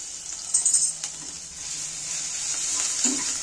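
Pointed gourd fries in a pan with green chillies, a steady close sizzle with a few sharp stirring clinks and scrapes near the start and again near the end.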